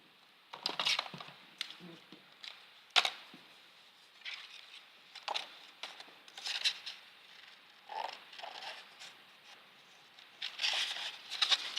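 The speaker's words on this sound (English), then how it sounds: "Let me cut this out with scissors." Quiet, intermittent scissor snips and crisp paper rustles come in short bursts, close up, with small pauses between cuts.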